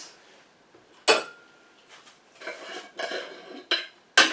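Dried oregano leaves are stirred in olive oil, making intermittent scraping clinks of a utensil against the container in short bursts separated by quiet gaps. No one speaks.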